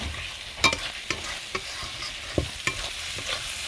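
A steady sizzle of ginger and spices frying in a pan, broken by several sharp scrapes of a spatula stirring at an uneven pace.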